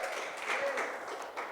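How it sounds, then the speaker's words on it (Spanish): A church congregation applauds at an Easter Sunday service, producing a steady, muffled wash of clapping for about a second and a half. "Dale un aplauso al Señor."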